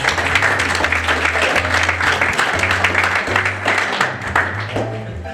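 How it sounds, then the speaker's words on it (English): A convention audience gives the organizing committee a sustained round of applause, dense and steady throughout before easing slightly toward the end. "So round of applause."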